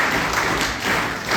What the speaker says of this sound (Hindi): आप लोग सभी लोग इसका एक बार फिर से तालियों से स्वागत करें